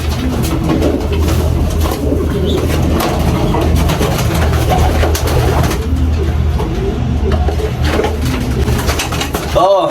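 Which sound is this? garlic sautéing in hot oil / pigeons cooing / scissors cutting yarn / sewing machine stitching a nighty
pigeons cooing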